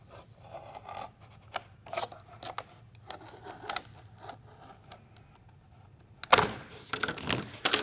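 A scored 3D-printed plastic windshield part for a Ferrari F40 model is snapped apart: quiet scraping and handling sounds, then a sharp, close crack with brief crackling just after.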